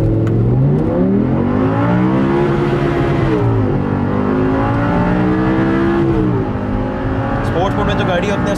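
An Audi R8 V10 in sports mode accelerates hard, its engine note climbing through rising revs and dropping briefly at gear changes, loud and close throughout.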